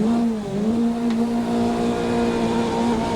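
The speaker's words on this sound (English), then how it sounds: "you can hear that V8." A V8 race car, a Corvette C8.R in Assetto Corsa sitting in the pits at Road America, idles with a loud, steady, deep drone that blips slightly near the start and then holds even.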